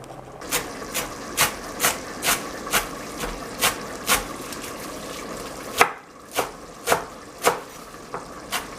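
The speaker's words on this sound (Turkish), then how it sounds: "Evet yemeğim olurken maydanozumu da kıyıyorum." A knife chops parsley on a cutting board in a steady run of sharp, close knocks, about two per second, pausing briefly midway before resuming.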